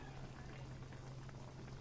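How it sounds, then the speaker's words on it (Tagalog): Sauce bubbling in a cooking pot for pineapple chicken, a steady low simmering burble with soft liquid pops, continuous and close throughout. "Ayan po, kumukulo na."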